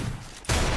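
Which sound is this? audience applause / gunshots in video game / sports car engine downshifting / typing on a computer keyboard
gunshots in video game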